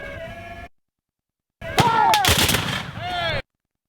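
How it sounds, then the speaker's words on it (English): Cannon firing, a sharp booming shot with a dense, noisy blast and crackling tail, loud and close, following a brief stretch of sound then silence, with another rumbling burst trailing after. "this last shot of the cannon firing"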